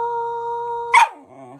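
A dog howls in a sustained, steady, singing-like tone, rising briefly into a louder yelp before sliding down into wavering lower howls, close and alone.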